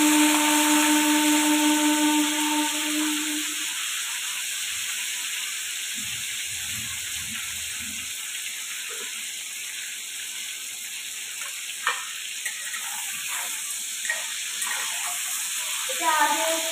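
Crab pieces frying in a pan, heard as a soft steady hiss and sizzle with a few sharper pops and clinks toward the end.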